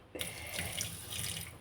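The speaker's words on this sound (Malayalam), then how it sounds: "നമ്മൾ കുറച്ച് വെള്ളം ഒഴിക്കും." Water runs from a kitchen tap in a steady, close rushing stream, starting abruptly and continuing without pause while fish is prepared for frying.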